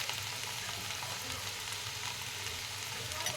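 Ghee sizzles over a carrot and pea curry, a steady, close crackling fry that continues evenly throughout.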